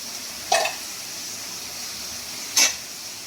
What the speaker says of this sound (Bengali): এবার পটলগুলো এখানে দিয়ে দেবো। পেঁয়াজের সাথে পটলগুলো ভেজে নেবো ভালো করে।